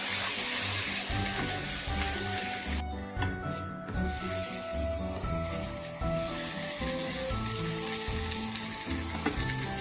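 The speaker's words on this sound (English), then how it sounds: "this pan is ready, so I'm gonna just add the salmon immediately" Salmon hits a hot pan of avocado oil and sizzles loudly and continuously, a dense close crackle that briefly thins and dips before returning at full strength, with no voices.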